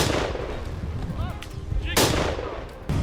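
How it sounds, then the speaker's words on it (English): Rifle shots during a wild boar hunt in an open field: a heavy boom at the start and another sharp crack near the middle, with a third blast at the very end, amid outdoor noise and brief voices. "A thunderous gunshot echoed through the field."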